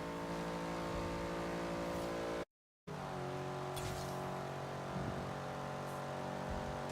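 A truck engine in Forza Horizon 3 drones at high revs near top speed, steady and loud, with a brief dropout midway before the sustained roar resumes.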